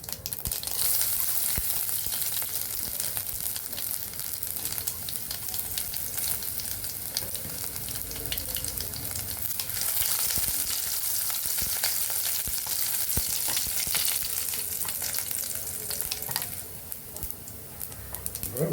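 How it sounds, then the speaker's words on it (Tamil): Mustard seeds, cumin and chopped garlic sizzle hard in hot oil, a loud, dense, crackling hiss that runs unbroken from start to finish with faint spatters and pops scattered through it. "எண்ணெய் சூடான அப்புறமா கடுகு சீரகம் சேர்த்துருங்க"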